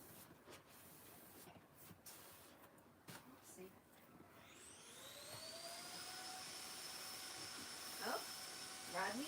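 A vacuum cleaner starts up in another room, its whine rising in pitch and then holding as a steady, distant hum, with quiet handling noises close by.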